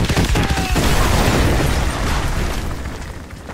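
Danger-close artillery strike in Call of Duty: Modern Warfare 2, loud sustained explosions rolling into one another, close and heavy, dying away toward the end with no talk.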